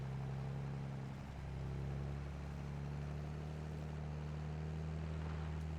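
A tractor pulling a wagon in Farming Simulator 22, a steady droning engine rumble that swells slightly partway through and holds constant, with no talk.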